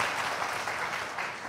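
A church congregation applauds during a sermon, a broad, continuous patter of many hands clapping together, steady and full for a moment before easing slightly.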